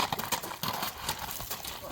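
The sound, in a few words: horse hooves clip-clopping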